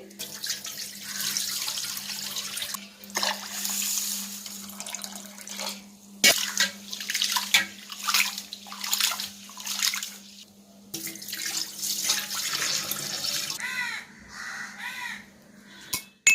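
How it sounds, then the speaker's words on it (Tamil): Raw rice being washed by hand in water, splashing and swishing in bursts with pauses, a steady hum underneath and faint bird calls in the distance. "ஒரு 3 டைம்ஸ் வாஷ் பண்ணிவிட்டு அதுக்கப்புறம் அப்படியே வச்சிடலாம். அரிச்சுக்கணும் கைனாலே"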